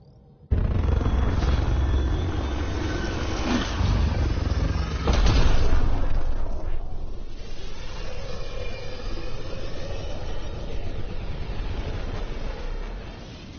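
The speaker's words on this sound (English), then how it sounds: "Nexus Control, this is the Tempest, Ident 2527, prepping to depart." Spaceship Tempest departing in the video game Mass Effect Andromeda gives a deep, sustained roaring rumble with heavy low booms early on, easing into a steady engine drone.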